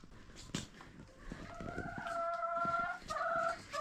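A farmyard rooster crows nearby in a long wavering call that is split into two parts, after some brief scratchy clucks and shuffling at the start, with no talk.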